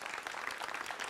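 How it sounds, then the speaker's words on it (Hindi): A television studio audience on a Hindi news debate show applauds with a brief, dense, even wash of clapping. "तालियों के साथ अभिनंदन करिए कन्हैया मित्तल का।"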